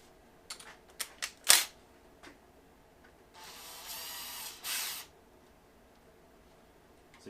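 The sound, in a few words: ratchet breaking loose a BMW Vanos bolt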